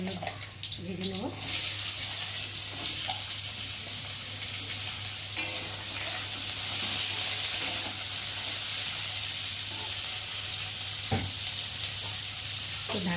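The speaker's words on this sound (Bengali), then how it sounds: "তো দেখো এখন আমি আলু ভাজবো। আলুগুলো ভেজে নেবো।" Potatoes frying in hot oil, a steady loud sizzle that holds throughout with a few clinks and stirring knocks close by, and faint talk briefly underneath.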